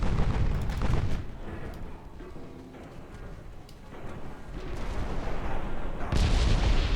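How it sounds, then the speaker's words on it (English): Dreadnought battleships in a naval warfare game, one with an 8-inch gun array at the stern, fire secondary guns in heavy booming salvos at the start and end, with lower rumbling blasts between them. "A lot of secondary fire on Laszlo."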